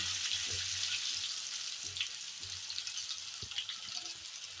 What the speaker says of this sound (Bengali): এবার আলুগুলোকে আমি লাল করে ভেজে নেব।